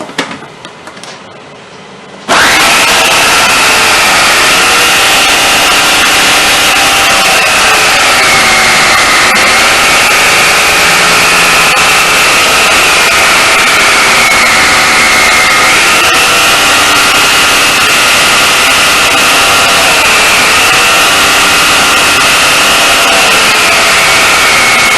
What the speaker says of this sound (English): we're going to grate it into the food processor